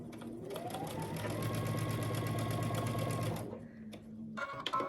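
A sewing machine runs a seam across quilt pieces for half-square triangles, a close rapid buzzing stitch that rises in speed, holds steady for a few seconds, then stops, followed by light handling clicks.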